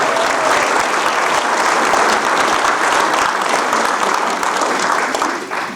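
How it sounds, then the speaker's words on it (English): A large audience claps steadily in sustained applause for a pastor retiring after a career in pastoral ministry, the dense clapping holding loud and even throughout with no talking over it. "let's hear it for Kusserow"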